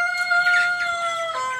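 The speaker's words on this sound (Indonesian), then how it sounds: "Nah, ini ayam Kedu. Ini TOC ayam cemani." A single Kedu or Cemani rooster crows nearby, a clear drawn-out call with a rising then falling tail, heard alone.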